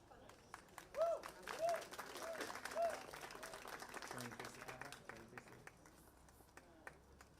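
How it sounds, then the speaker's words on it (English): An audience at an awards ceremony claps and cheers, with scattered hand claps and crowd noise rising and falling under an ongoing voice, fairly quiet overall. "He has a big audience here cheering for him."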